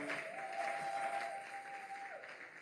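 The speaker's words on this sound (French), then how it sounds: "Est-ce que tu peux acclamer ce Seigneur?" Church congregation applauding during a Sunday service, a steady, moderately faint wash of clapping with a sustained tone running beneath it.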